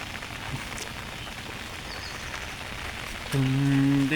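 Steady rainfall during the rainy season, a dense close hiss of drops on surfaces running throughout, with a brief burst of music-like tones entering near the end.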